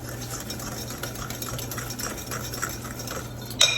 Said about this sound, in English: to our 2 beaten eggs, we're gonna add half of a cup of granulated sugar. Whisk this around.